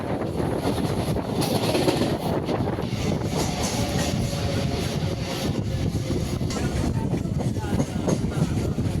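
An EMU suburban train runs between Gummidipoondi and Chennai Central, heard from inside as a steady loud rumble with rattling and wind noise throughout.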